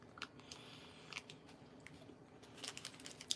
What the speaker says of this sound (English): Nisi, I'm eating a Reese's Big Cup peanut brittle with peanut brittle flavored cream and crunchy peanut butter